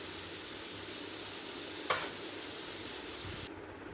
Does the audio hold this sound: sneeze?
no